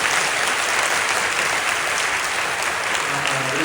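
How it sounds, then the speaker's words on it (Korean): A church congregation applauds a choir with loud, sustained clapping that holds steady from start to finish, with no speech over it. "우리 하나님 찬양대 축복하면서 박수 한번 해주세요."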